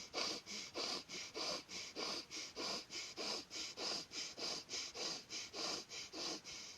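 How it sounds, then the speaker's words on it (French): Rapid, forceful breaths through one nostril in a guided breathing exercise, about fifteen evenly paced puffs in quick steady rhythm, close and alone with no talk. "On bouche l'autre narine et on refait 12 respirations rapides."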